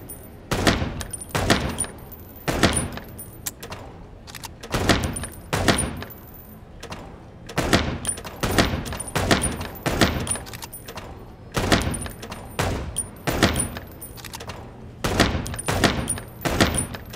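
Repeated bursts of gunfire in the video game Chicken Police: Paint it Red, with shots in quick clusters separated by short pauses throughout, loud and close.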